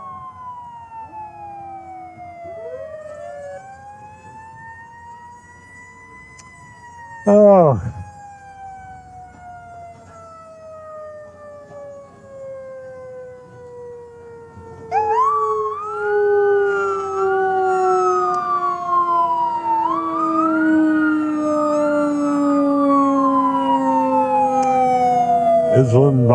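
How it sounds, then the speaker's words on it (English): Fire engine and emergency vehicle sirens wail through a St. Patrick's Day parade, a long falling tone sliding downward as the rigs pass, with a sharp horn blast midway, then a fresh rising-and-falling siren swelling loud to the end over faint crowd voices. "And as they are, the sirens move away."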